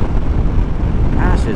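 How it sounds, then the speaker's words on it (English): Heavy wind buffets the microphone during a motorcycle ride in a constant low roar, with a voice speaking briefly under the gusts. "Gosh, it's windy."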